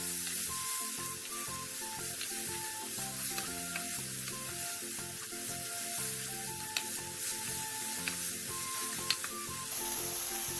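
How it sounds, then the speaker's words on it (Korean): Mushrooms and red chili stir-fry in a hot pan with a constant sizzle and occasional stirring scrapes, backed by soft music. "버섯의 숨이 살짝 죽으면 홍고추를 넣고 버섯이 흐물흐물해질 때까지 볶아주세요"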